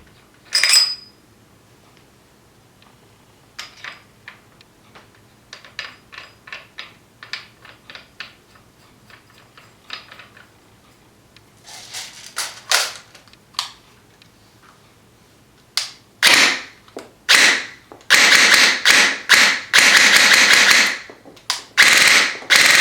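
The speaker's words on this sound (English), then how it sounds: "Now we'll install the 4-inch amplifier." An airsoft gun is fitted with a custom 4-inch amplifier, starting with sparse metallic clicks and snaps, then turning into a run of loud, sharp bursts toward the end.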